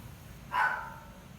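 A single short dog bark, moderately close, rises briefly over a quiet indoor hum with no talking.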